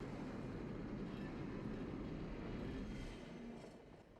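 A train rolls along the tracks in a film scene from Back to the Future Part III, a steady dense rumble of wheels and carriages that holds constant before easing slightly toward the end, with no voices.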